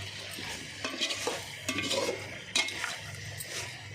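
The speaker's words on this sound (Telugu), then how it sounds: "చక్కగా తిప్పుకుందాం ఫ్రెండ్స్." Curry is stirred in a cooking pan, with scraping spoon strokes in uneven bursts over a low background sizzle, close and moderately quiet, no speech.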